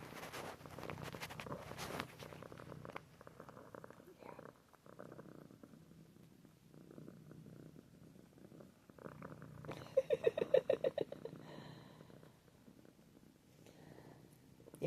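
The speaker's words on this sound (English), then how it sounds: "I don't know if you all can hear her purring" A cat purrs softly and steadily up close, a low continuous rumble, with brief louder rustling partway through.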